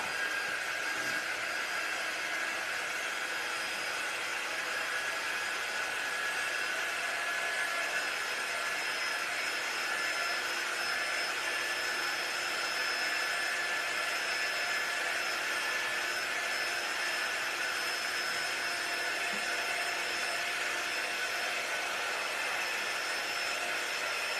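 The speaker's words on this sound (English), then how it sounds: "let me dry this just a little bit so I don't mess it up" A dryer blowing on a fabric watermelon stuffie, a steady whooshing airflow with a continuous motor whine that holds even and unbroken throughout.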